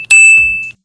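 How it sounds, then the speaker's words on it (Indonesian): A single loud, clear electronic notification ding rings out and sustains briefly before cutting off, alone and close. "nanti bakalan ada suara notifikasi seperti ini"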